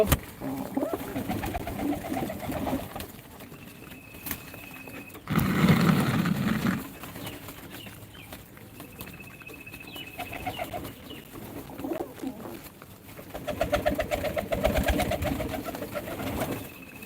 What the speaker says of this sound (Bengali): এগুলো আমার প্রায় শিকারি কবুতর সকল কবুতর আমার হাতে এসে খাবার খায়